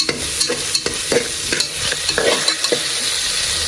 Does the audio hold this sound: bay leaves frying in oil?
yes